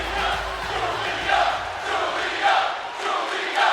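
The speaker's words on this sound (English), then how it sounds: "judging by the crowd reaction alone" A wrestling arena crowd in the WWE 2K25 video game roars steadily, its cheers swelling in repeated surges at a moderate, distant level.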